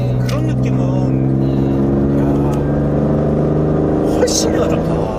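A BMW M4 pulls hard under acceleration, its steady engine drone holding loud and close throughout with layered harmonics, while people talk over it inside the car.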